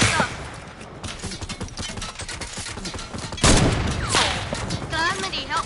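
Loud, close gunfire from Fortnite playground mode rattles in rapid automatic bursts and single shots, with a sharper blast midway, while players talk over the fighting.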